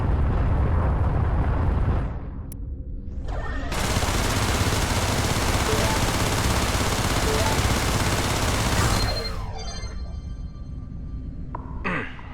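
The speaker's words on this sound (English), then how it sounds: "There is a mineable asteroid nearby. Shoot at it to extract fuel." In the space game Everspace, a ship weapon fires at a mineable asteroid in a long, dense roar of rapid gunfire with blasts. It drops briefly near the start and fades near the end.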